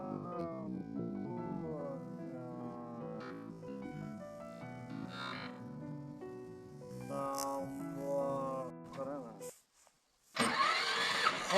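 A tractor engine, being shown off for sale, starts and runs with a steady rumble beneath continuous loud talking and background music-like tones, ending in a brief gap before a burst of noise.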